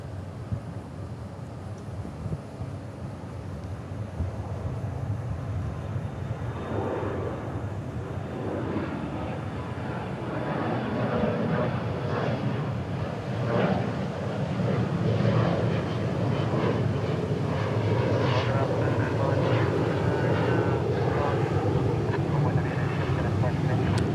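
An airliner departs DFW airport bound for Champaign, a steady jet roar that builds slowly and stays loud throughout, with someone talking over it.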